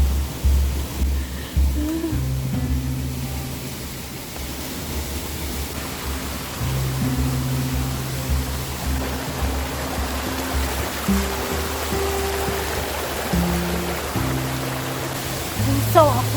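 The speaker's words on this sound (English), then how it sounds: "Oh, there's a waterfall." A hidden jungle waterfall in Bocas del Toro, Panama, roars as a steady, broadband rush of falling water that fills the whole stretch, with low engine-like hums and faint voices underneath.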